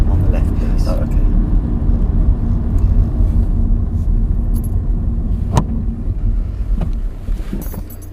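A car idles steadily during a driving test, a close, loud, continuous engine rumble that fades slightly toward the end, with a brief knock partway through.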